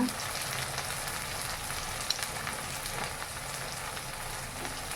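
Chopped tomatoes and onions sizzle softly in a pan for potato masala, a faint continuous crackle of frying with no voices over it.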